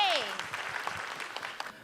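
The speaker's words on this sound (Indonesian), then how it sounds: "Tepuk tangan untuk Dokter Saga." A comedy-show audience applauding briefly for stand-up comedian Dokter Saga, a short burst of claps that quickly fades, with a voice at the start.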